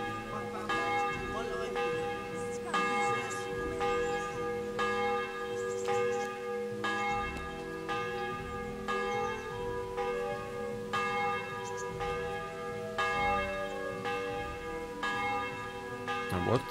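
Church bells ring at midday in the video game Kingdom Come, a steady run of overlapping resonant strikes roughly every second, sustained and moderately loud throughout.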